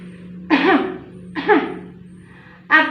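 A person coughs three times while covering the nose and mouth to show cough etiquette. The coughs are short, close and muffled, spaced about a second apart over a faint steady hum.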